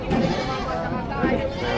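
Goats at a livestock sale bleat nearby, two wavering calls sounding loudly over a busy background where voices may also be present.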